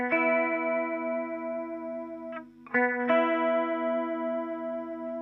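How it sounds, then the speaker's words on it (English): A sustained electric guitar chord through an MXR Analog Chorus pedal shimmers with a wavering chorus effect, playing a section of a song, briefly interrupted by a couple of quick strums before ringing on steadily. "You do actually hear a kind of chorus effect there"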